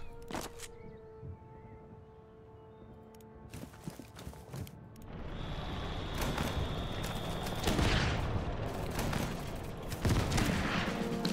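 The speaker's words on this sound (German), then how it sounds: "Schieß den da mal schnell weg." Tank cannon fire and battle noise from the strategy game Total Tank Generals, at the Battle of Arras. Scattered sharp shots come first, then a dense, continuous barrage of gunfire swells and carries on at a steady level.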